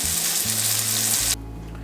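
Burger patties topped with Swiss cheese fry in a pan with a strong, continuous sizzle, close up; the hiss eases noticeably near the end.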